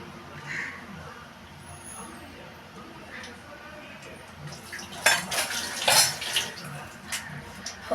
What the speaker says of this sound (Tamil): தண்ணி கொஞ்சம் லைட்டாக ஊற்றிக்கலாம்